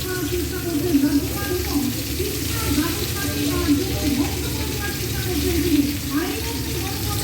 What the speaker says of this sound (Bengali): ওদিকে চিলি চিকেনের চিকেন ভাজা হচ্ছে